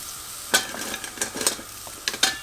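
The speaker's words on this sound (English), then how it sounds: "Right, we're gonna put our onions in there." Onions cook in a pot for a Mauritian chicken curry, a soft background sizzle with a few sharp scraping stirs and utensil clicks close by.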